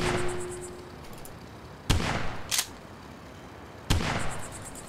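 Gunshots in the video game Cooking Simulator, two sharp loud reports about two seconds apart, each with a brief echoing tail.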